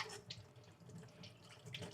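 A kitchen tap runs steadily while hands are washed under it before breakfast, a soft continuous splash with light irregular sloshing, fairly quiet and without voices.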